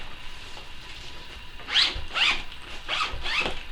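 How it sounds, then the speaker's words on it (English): Zippers on a camera bag tugged open and closed in several quick, close rasping strokes, fairly quiet, with no talking. "sorry, I'm messing with the zippers"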